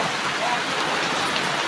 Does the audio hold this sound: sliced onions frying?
no